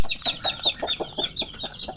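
Chickens cluck in a quick, steady series of short calls, close and fairly loud, with no talking.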